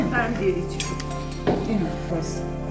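Steaming hot rice being served with dal and curry, with ladles and utensils clinking against metal plates and pots in a few distinct knocks, while people talk nearby.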